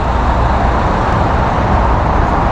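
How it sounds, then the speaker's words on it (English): Steady, continuous roar of highway traffic on I-84 heard from a secluded RV campsite, a constant broadband wash of distant passing cars and trucks with no talk. "you can hear the traffic on I-84"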